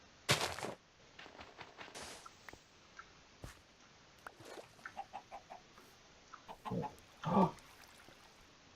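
Chickens in a video game mob farm give a few short clucks and squawks at moderate distance, scattered over quiet background with one brief spoken exclamation.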